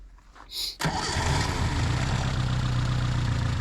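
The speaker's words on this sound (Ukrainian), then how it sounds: "Залили антифріз, треба завести, щоб пробку прогнав." Tractor engine cranked and started after an antifreeze refill, a short starter whine then catching into a loud, steady, rumbling idle that fills the rest of the clip.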